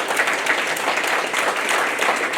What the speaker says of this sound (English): at least give her a round of applause